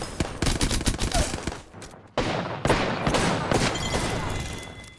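Rapid gunfire in Apex Legends duos, bursts of close, loud automatic shots clustered in the first two seconds, a brief lull, then another sharp barrage with continued shooting trailing off.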